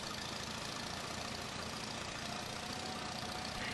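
Allis Chalmers tractor engine running steadily in Farming Simulator 22, a faint, even idling drone with no change in pace.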